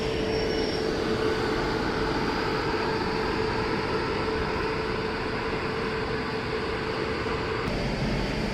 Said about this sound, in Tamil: பிட் யார்டில் இருந்து பிளாட்ஃபார்முக்கு ட்ரெயின் வந்துட்டு இருக்குங்க